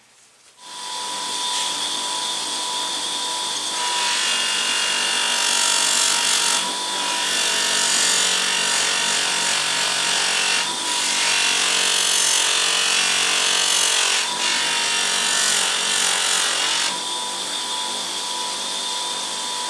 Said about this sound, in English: Next thing I'm going to do is get it onto the buffing wheel just to clean up these two bits